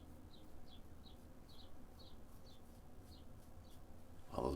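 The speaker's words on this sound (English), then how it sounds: "Oh, those birds are loud today." A small bird chirps repeatedly outdoors, quick evenly spaced two-note calls about twice a second over a faint background hum, ending with a soft nearby bump.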